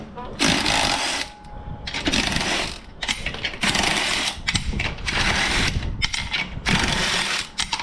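Lug nuts come off the rear wheel of a Nissan GU Patrol, heard as bursts of loud, rattling impact or ratchet buzzing at close range, repeated about six times with brief pauses.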